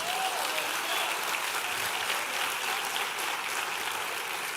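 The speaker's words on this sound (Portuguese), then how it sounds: "Você pode aplaudir o Senhor?" A church congregation applauds during a sermon, a steady dense wash of clapping from many hands that holds at an even level throughout, with no voice rising above it.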